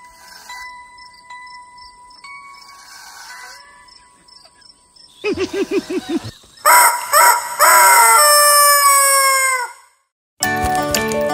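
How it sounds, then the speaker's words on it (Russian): A cartoon rooster crows cock-a-doodle-doo in a children's farm song, with bright jingly musical accompaniment. Several loud, rising crows come in bursts over the music before a short pause and a final sung phrase. "Петушок на ферме устал будить всех песенкой своей"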